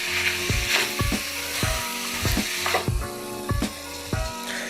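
Ground beef with jalapeno frying in a pan, a steady sizzle punctuated by regular scraping, knocking strokes of a utensil stirring the meat, close and fairly loud with no talking.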